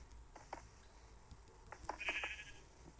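A sheep in Minecraft bleats a few times in short wavering calls, fairly clear against a quiet, faintly noisy background.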